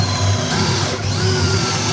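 A power drill bores 1.5-inch pocket holes into the end of a wooden board for a DIY dining table, giving a close, steady, loud motor whine that holds throughout the short burst without pause.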